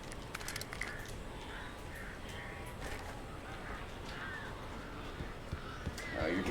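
Crows caw repeatedly in Alan Wake Remastered, harsh calls recurring over a dense, rumbling ambient backdrop that swells slightly at the end.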